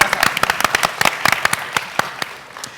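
A small audience at a panel discussion claps for Jason Culp, head of upper school, with sharp, close individual claps in a loose, uneven rhythm that thins out toward the end.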